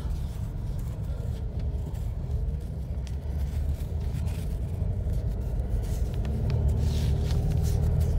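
A car drives steadily, its low road rumble and engine hum constant and fairly loud, growing slightly heavier toward the end, with no talking.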